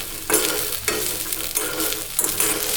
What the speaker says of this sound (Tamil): உப்பு போட்டு 1 நிமிஷம் வதக்கிடலாங்க.